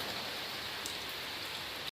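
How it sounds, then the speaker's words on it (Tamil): Heavy monsoon rain pours down in a dense, steady hiss close by, then cuts off abruptly. "பாருங்க மழை திரும்ப ஓவராக வருது"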